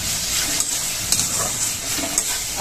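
Goat trotter curry masala with added Kharagpur masala frying in a pan, a continuous loud sizzle broken by a few sharp scrapes of a stirring spoon.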